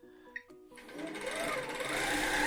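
A Q'nique 21X Elite quilting machine starts up after a few clicks and settles into a fast, steady stitching hum that grows slightly louder, heard close and alone.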